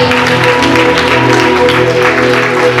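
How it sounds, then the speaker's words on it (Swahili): A church congregation claps for Jesus during a sermon, producing a loud, dense, continuous wash of many hands applauding together over a faint musical hum. "Piga Bwana Yesu makofi kama tuko pamoja."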